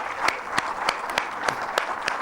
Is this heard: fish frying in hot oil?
no